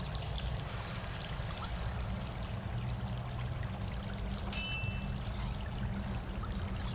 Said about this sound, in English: Running water. Main deal here.